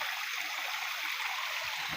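Running water from a communal water supply flows in a steady, hissing stream, continuous and fairly close throughout.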